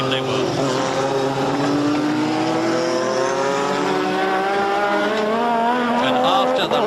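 A 1986 Formula 1 car lapping Brands Hatch in qualifying, its engine whining through rising and falling gear sweeps, loud and continuous beneath a commentator talking.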